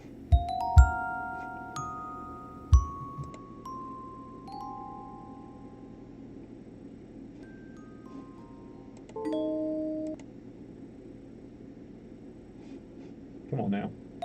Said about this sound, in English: So bells. We're going to solo the bells.